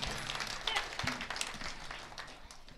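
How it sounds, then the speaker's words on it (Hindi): Audience clapping at a Hindi comic poetry gathering, a dense, steady patter of many hands filling the whole stretch, with a faint voice mixed in underneath. "एक बार ताली बजा दें।"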